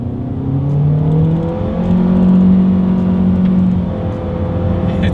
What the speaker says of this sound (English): let's do an acceleration test here.